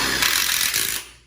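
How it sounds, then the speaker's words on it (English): An impact drill drives hex-head screws into thick steel tubes of an outdoor kitchen frame: one loud, close, rattling burst of about a second that quickly dies away. "You have to have an impact drill, this pushing while you're screwing to get in through our thick steel."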